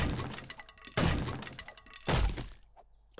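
Two heavy smashing impacts with breaking, crunching debris as a locked house is battered in 7 Days to Die, loud separate thunks about a second apart with clatter between.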